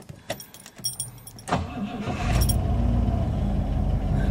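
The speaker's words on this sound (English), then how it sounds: "And V8 comes to life." A 1970 Rover 3500S V8 with automatic transmission is started from inside the car: a few clicks and jingling keys, a brief cranking whir, then the engine catches and settles into a loud, steady idle rumble.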